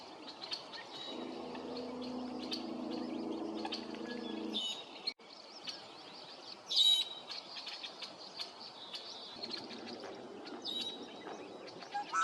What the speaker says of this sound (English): Walking along, we came across this red-winged blackbird